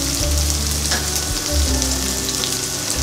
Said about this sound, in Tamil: வெங்காயம் போடுறேன்.